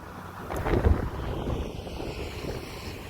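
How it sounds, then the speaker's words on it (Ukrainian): Strong wind buffets the microphone outdoors on a farm in heavy, rumbling gusts, loudest near the start and then settling into a steady roar. "на дворі вітер сумасшедший"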